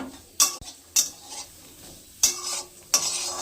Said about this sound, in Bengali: এগুলো একটু নাড়াচাড়া করে নিয়েছি